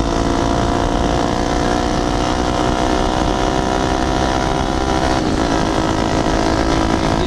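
A motorcycle passes during a chase, its engine a loud, steady roar that fills the whole stretch without a break, with no voices over it.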